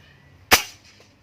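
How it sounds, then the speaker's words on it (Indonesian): A single sharp air rifle shot cracks out at a 90-meter range, followed by a brief decaying echo, with quiet stillness before and after. "Tembakan pertama."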